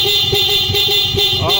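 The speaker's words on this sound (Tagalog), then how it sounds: "Sige, banat ang busina." Loud horn of a Raider 150 carburetor motorcycle fitted with an aftermarket horn setup, honking in a rapid series of repeated toots at night, close to the microphone, with the idling engine underneath.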